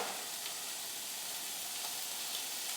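Beef mince browning in a pan for chilli con carne makes a steady, soft sizzle and hiss, with faint crackles and no voices.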